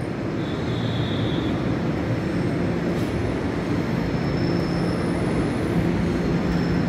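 An EMU commuter train, a Taiwan Railways local service, rolls into a station with a loud, steady rumble of motors and wheels that holds its level throughout, plus faint high whines above the roar.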